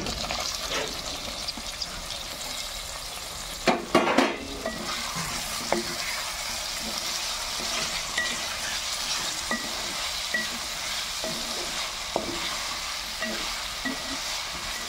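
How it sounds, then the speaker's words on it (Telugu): Chopped eggplant pieces dropped into a pan with ginger-garlic paste set off a loud burst of frying around the fourth second, followed by a steady crackling sizzle with scattered pops and stirring scrapes. "ఇప్పుడు ముందుగా తరిగి పెట్టుకున్న వంకాయ ముక్కలు అయితే ఇందులో వేస్తాను"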